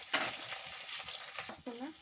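Onions and curry leaves frying in a pan with green chilli, a soft steady sizzle broken by a few stirring scrapes, fairly quiet and close, with faint speech in the background.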